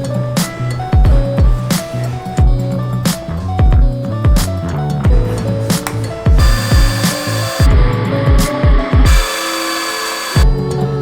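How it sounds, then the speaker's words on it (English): A power drill bores holes to mount a bull bar on a brand-new Nissan Navara, cutting in a series of loud, close, whining bursts separated by short pauses, ending in one longer run. "drill 4 little holes there"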